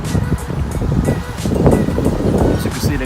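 Gusty wind buffets the microphone outside a Weber Grill restaurant in Chicago, with low rumbling roars that swell and fade, close and loud, with faint hissing above.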